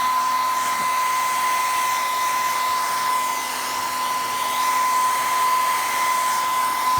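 Heat gun blowing steadily while warming motocross graphics decals to push out a small raised area, a continuous loud whirring blast with a high tonal whine running throughout without a break.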